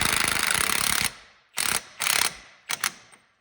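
Impact wrench fitted with a 36 mm impact socket running on the axle bolt of a Cadillac CT5-V, a long rattling hammering burst followed by several shorter bursts separated by silence, close and loud with no talk.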